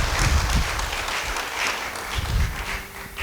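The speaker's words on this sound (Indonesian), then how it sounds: "Yang setuju beri tepuk tangan bagi Tuhan." Steady, fairly loud applause rises from a church congregation during a worship sermon. The clapping continues without a break, with slight swells, and no one speaks over it.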